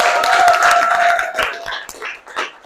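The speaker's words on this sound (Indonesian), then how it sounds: "kita tepuk tangan untuk kelompok" Audience in a classroom applauds a student group after a geography project presentation, a burst of steady clapping that thins out toward the end.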